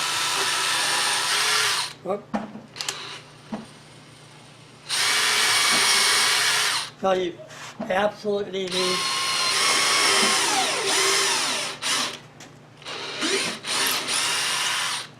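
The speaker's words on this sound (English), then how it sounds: "So I have a pilot drill," Bursts of a power drill boring 1/8 inch pilot holes at the corners of a floor frame in a silkscreen shop build, several whirring runs of a few seconds each, separated by brief speech and handling clatter.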